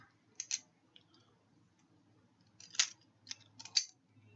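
A butterfly knife flips open and closed in a quiet room, with a few crisp metallic clicks and snaps coming in small bursts, close and fairly faint.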